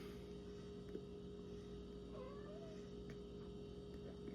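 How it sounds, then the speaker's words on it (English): A single soft cat meow, faint and somewhat distant, over a steady electrical hum. "Probably hear my cat behind me."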